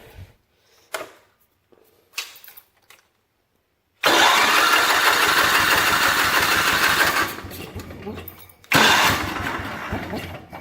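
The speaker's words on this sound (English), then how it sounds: "Let's see if this thing fires." A 1968 John Deere 110 lawn tractor cranks briefly, then its engine catches and runs loud and close for a few seconds, dips, and roars back to life again after a short falter.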